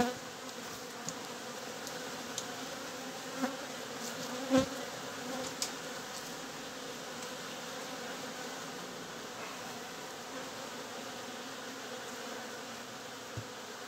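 Honey bees buzz around an open, troubled beehive in a steady, dense drone close by, with a few faint clicks and knocks over the continuous hum.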